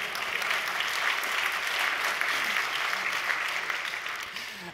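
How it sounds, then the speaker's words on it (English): Sustained applause from a conference audience watching a live coding talk on a React.js game, a dense, steady wash of clapping that holds at full level for several seconds before easing slightly at the end. "Feel free to clap, though, if you want to."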